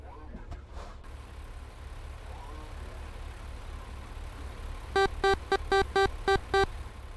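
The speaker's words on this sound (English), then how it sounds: "I love the sound of the G brake." Truck engine brake in American Truck Simulator: a steady low engine drone, then a rapid stuttering series of about seven loud, evenly spaced blats near the end, with brief speech early on.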